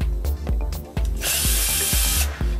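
A power drill spins screws out of a panel, its motor whirring in repeated short bursts with a sustained loud run in the middle; no talk.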